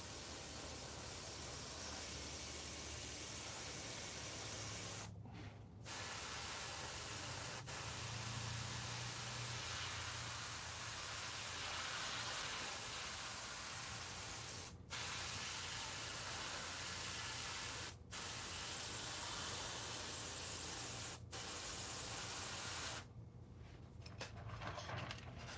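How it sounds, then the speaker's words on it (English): An airbrush or spray gun hisses steadily while repainting a Sideshow Darkseid maquette, a continuous close airy spray broken by several short pauses and stops, with no talking. "I'm going a little bit quicker on this guy, getting a little bit more overspray"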